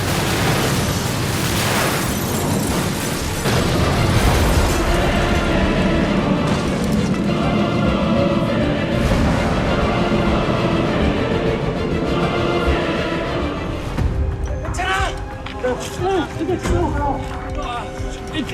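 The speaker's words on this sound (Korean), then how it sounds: "그 순간 연쇄적으로 일어난 폭발." A chain of explosions tears through a burning building, a dense continuous roar of blasts and rumbling that stays loud and unbroken from start to finish.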